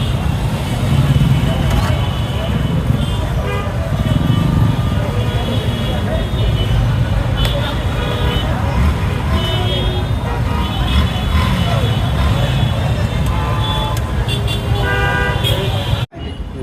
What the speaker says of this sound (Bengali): এখানে হাজার হাজার মোটরসাইকেল তেলের জন্য দাঁড়িয়ে আছে।